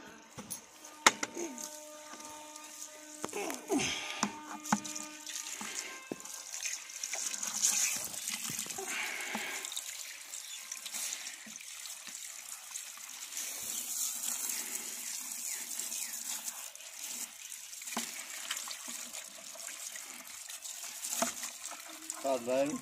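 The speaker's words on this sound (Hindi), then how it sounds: "यहीं से डाल लूं पाइप से पानी।" Water gushes from a hose pipe in a carrot field, a fairly quiet, steady flow with a few knocks and scrapes near the start.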